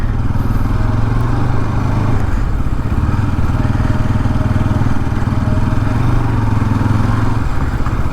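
Kawasaki Z900 motorcycle with a loud aftermarket exhaust passing on a coastal road ride, a steady, loud, droning engine roar with a rough mid-pitched rumble that holds throughout.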